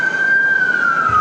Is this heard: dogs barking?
no